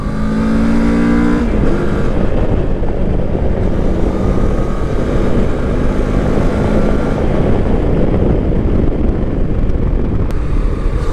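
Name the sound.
CFMoto 700MT (2024) motorcycle being ridden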